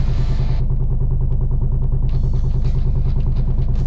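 A car engine in the racing game Tuning Club Online idles and burbles with a steady, rapid low pulsing, loud and close, with faint clattering on top.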